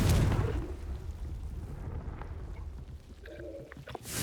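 A Confringo blasting spell is cast in Hogwarts Legacy, opening with a loud, booming burst that rolls into a rumbling, crackling decay and fades over several seconds, followed by a fresh rise at the end.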